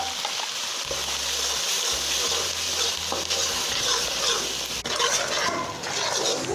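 Masala paste fries loudly in a hot pan for a butter chicken, a dense, crackling sizzle broken by stirring scrapes and a few low bumps.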